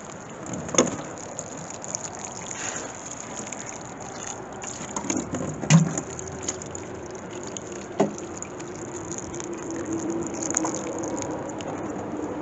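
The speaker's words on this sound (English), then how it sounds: "I'll just give them another watering." Water trickles and patters steadily onto seedling pots during watering, with a few louder splashes and drips over the constant, close flow.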